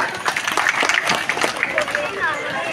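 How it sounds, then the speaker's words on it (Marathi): Applause and cheering from a crowd welcoming guests at a local mini marathon event, dense clapping mixed with babble and voices throughout. "आपले माजी नगरसेवक श्री मार्शल साहेब. जोरदार टाळ्या."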